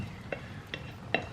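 Pork stew stirred in a cooking pot, a few soft scraping clicks spaced roughly every half second over a low steady simmer, close and quiet with no talking.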